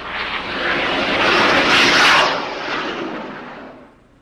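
A Blackburn Buccaneer jet accelerating away after a steam catapult launch, a loud, broad, steady roar that swells and then fades over several seconds.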